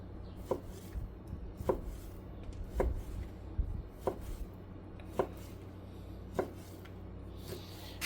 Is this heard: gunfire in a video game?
no